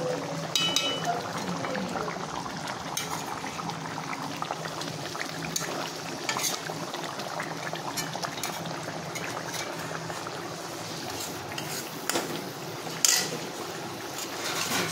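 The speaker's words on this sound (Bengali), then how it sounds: "মাছটা প্রায় আমার হয়ে এসেছে, সুন্দর ফুটেছে" Fish curry bubbling in a pan on the stove gives a steady, close simmering and sizzling texture throughout, with occasional small pops and clinks.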